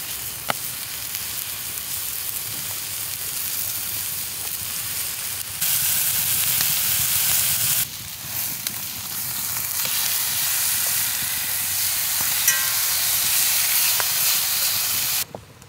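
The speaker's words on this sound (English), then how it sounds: "Oh, look at that sizzle." Peppers and onions fry in a hot pan with a steady, loud sizzle and hiss that runs without a break, swelling slightly in intensity partway through, with no voices.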